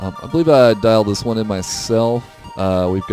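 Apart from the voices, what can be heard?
No everyday noises stand out.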